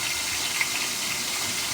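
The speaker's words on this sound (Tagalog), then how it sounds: "Lagyan natin kating tubig mga lods." Water is poured from a container into a pot of Filipino vegetable stew, a steady, bright splashing gush heard close up and alone for nearly two seconds.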